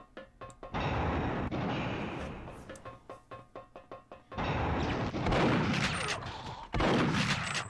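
Shotgun blasts in the Perfect Dark video game fire in rapid clusters of sharp booms, some spaced out and some in quick bursts, loud and close with game noise between them.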